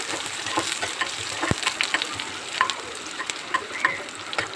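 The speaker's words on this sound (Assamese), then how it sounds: "পিঁয়াজখিনি সিজালৈকে এইখিনি ভাজিব লাগিব" Finely chopped onions fry in a pan with a continuous close sizzle, broken by irregular scraping and clicking taps from stirring, with no talking over it.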